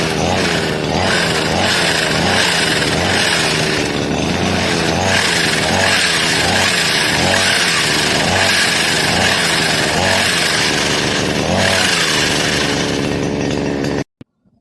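Brush cutter engine converted into a chainsaw with a bar attachment, test-run in a garden: a loud, close two-stroke buzz with rhythmic revving surges over about fourteen seconds, cutting off abruptly at the end.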